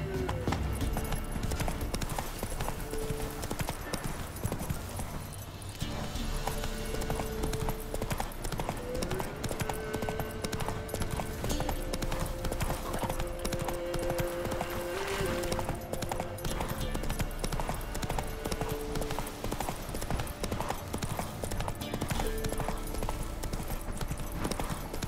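A horse's hooves clip-clop steadily throughout a ride in The Witcher 3 next-gen, the even rhythmic beat running under background music.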